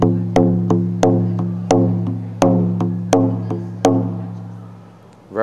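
Steady drum beats strike about ten times at an irregular, loose pace, each hit ringing out with a deep resonant tone before the next.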